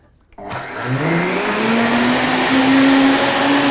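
A Breville Boss blender runs a cleaning cycle with detergent, starting with a click and then ramping up into a loud, steady, high whirring roar that holds for several seconds.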